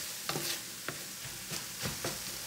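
Ground beef browning in a pan for goulash, a soft steady sizzle broken by several scraping strokes of a utensil stirring the meat, close and fairly quiet.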